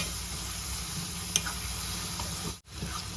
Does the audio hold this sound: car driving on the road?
no